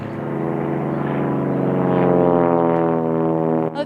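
A classic propeller airplane from a vintage aircraft museum's air show drones past with a steady, loud, harmonic engine hum that swells slightly and holds throughout, with no voices.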